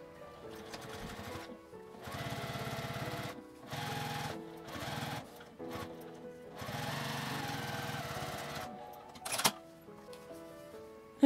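Sewing machine stitching a 5 cm fabric strip, right sides together, with a 1 cm seam allowance. Several bursts of rapid mechanical whirring are separated by short pauses, ending with a sharp click.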